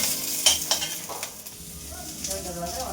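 Cumin and curry leaves sizzle in hot oil in a home kitchen, a crackling hiss with a few sharp pops and utensil clinks at the start, settling into a softer, steady fry.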